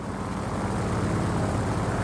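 Propeller aircraft engine in the Just Cause 4 video game, a loud steady droning roar that holds at constant intensity throughout, close and unbroken, with no voices.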